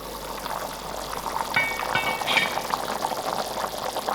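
Lamb stew with potatoes simmering under a lid in a pot, giving a steady close bubbling hiss that runs throughout, with a few faint clinks near the middle.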